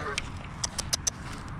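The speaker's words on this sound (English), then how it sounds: "I'm gonna wait for these geese to move" Several short honks from geese near a lake, spaced irregularly over a steady outdoor background, moderately distant and fairly faint.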